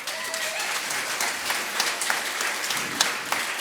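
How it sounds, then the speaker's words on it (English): Applause from a concert audience at a Celtic music gathering, a steady wash of many hands clapping at moderate distance with a few sharper individual claps standing out. "Please give me a round of applause."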